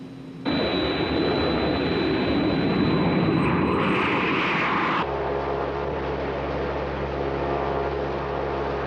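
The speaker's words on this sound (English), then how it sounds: "he's heading in south-southeasterly direction in a Green Angel executive aircraft" An executive aircraft engine roars loud and steady as a radio drama effect, holding a continuous drone before shifting abruptly to a lower, rumbling cabin tone partway through.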